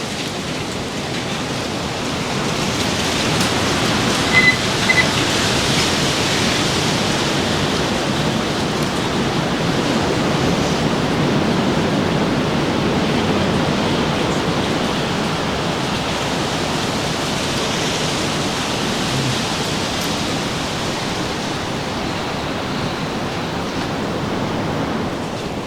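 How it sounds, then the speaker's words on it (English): Strong wind roars steadily across an outdoor work area where boat carpet is being fitted, a loud, unbroken rushing blast with no talking. "Dang, that wind is blowing, boy."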